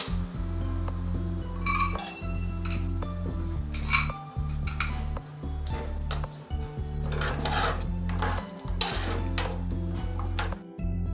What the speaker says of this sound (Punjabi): ਇਹਦੇ 'ਚ ਲਓ ਜੀ ਇੱਕ ਕੌਲੀ ਆਪਾਂ ਪਾਸਤੇ ਦੀ ਲਈ